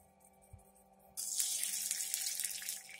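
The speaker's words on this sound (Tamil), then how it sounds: "பாருங்கள், பொரிஞ்சு வந்துடுச்சு பெருங்காயம்." Asafoetida spluttering in hot oil while tempering karamani masala sundal, a steady close crackling sizzle that switches on abruptly after a quiet second and carries on to the end.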